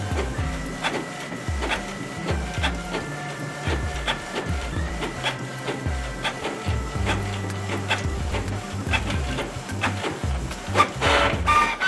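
A Canon PIXMA G-series ink tank printer runs through a print job, with rhythmic mechanical clicks, thumps and whirring from the paper feed and carriage repeating steadily and close up, with no talking.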